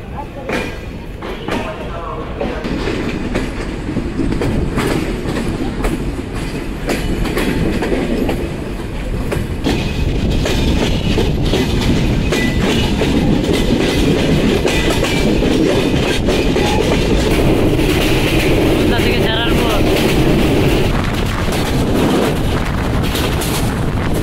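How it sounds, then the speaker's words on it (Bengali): The Kapotaksha intercity broad-gauge express pulls out of Rajshahi railway station bound for Khulna, a continuous loud rumble with rhythmic wheel clatter that builds and holds steady, wheel squeals rising briefly near the end. "আন্তনগর কপোতাক্ষ এক্সপ্রেস ছেড়ে গেল রাজশাহী রেলওয়ে স্টেশনে দুপুর 2টা 30 মিনিটে।"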